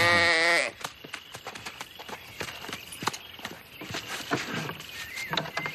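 Sheep bleat repeatedly in a pasture, one loud close bleat at the start followed by busier mixed farmyard noise with scattered bleats and thuds.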